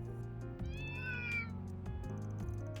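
Several cats meow in a game scene from Trails Through Daybreak, a drawn-out rising and falling cry in the middle over a steady low musical hum, with short softer mews around it.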